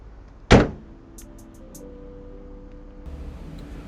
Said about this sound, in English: let's go ahead and close the hood